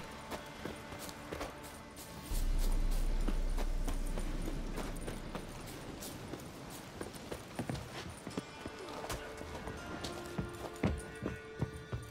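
Horse hooves clip-clop in an uneven walking rhythm in a video game, moderately close, with a low rumble swelling briefly in the background.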